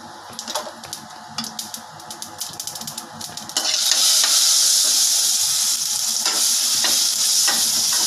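Crackling, spluttering pops of mustard seeds and dried chillies in hot oil, building to a loud continuous sizzle partway through, with scattered bursts of popping throughout.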